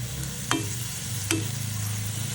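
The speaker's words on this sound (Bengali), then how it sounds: "দুধটা দিয়ে ভালো করে কষাতে থাকবো" Katla fish curry with coconut milk, drumsticks and jackfruit seeds being stirred in a pan, a continuous close sizzle with two sharp scrapes of the spoon against the pan.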